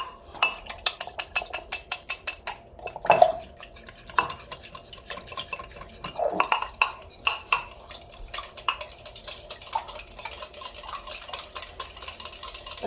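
Spoon clinks and scrapes rhythmically against a dish while sour cream is stirred into hot cabbage soup broth, steady repeated stirring strokes up close with no talk.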